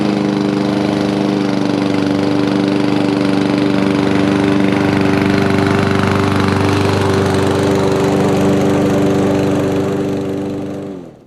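A gas lawn mower engine runs loud and close with a steady, droning roar that holds for about ten seconds before dying away at the end.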